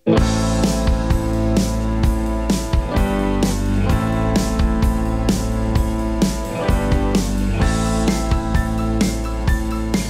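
A song plays loud and steady on radio, a dense full-band mix with rhythmic percussive hits throughout and no talk over it.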